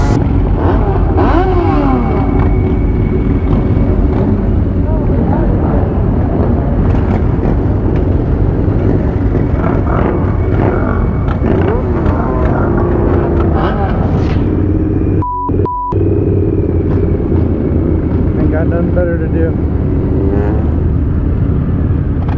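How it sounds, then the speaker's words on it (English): Street-racing motorcycle engines rev and roar nearby with rising and falling whines, mixed with traffic rumble and shouting voices, including police, throughout. "the guys on the motorcycles were out here racing"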